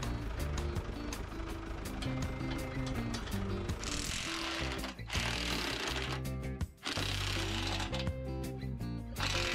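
A ratchet loosens old loader mounting bolts on a White 2-60 Field Boss farm tractor, giving a steady run of close, rapid clicking over background music with a few brief pauses.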